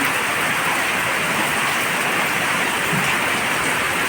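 Dense, steady rush of floodwater overflowing from a street and pouring in, splashing without pause, loud and close.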